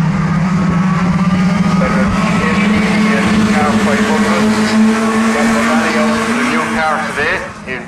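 Race cars roar up the back straight at Waterford Raceway, a loud, sustained engine drone with shifting pitch that fades slightly toward the end.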